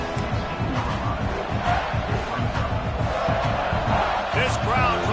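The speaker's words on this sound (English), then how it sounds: "This crowd trying to make life miserable for this offense." Stadium crowd noise in the college football video game NCAA 26 during an Auburn vs South Carolina matchup, a dense continuous roar of fans underneath steady play-by-play commentary.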